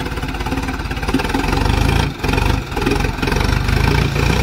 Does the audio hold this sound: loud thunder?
no